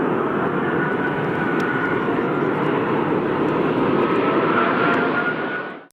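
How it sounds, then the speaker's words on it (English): An Airbus A380 airliner going around during landing, its engines a loud, broad, sustained roar that holds steady for several seconds, then cuts off abruptly, with no voices. "It's definitely rare to get to see an Airbus A380 go around."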